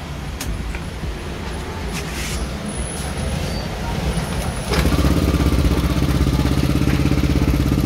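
A fuel-injected motorcycle engine starts partway through and settles into a loud, fast, steady high idle after earlier background rumble and rattling.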